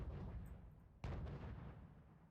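Mortar fire in the real-time strategy game Wargame: Red Dragon: a single sharp, booming impact cuts through a low, rumbling battlefield bed, then trails off, heard from a moderate distance with no voices.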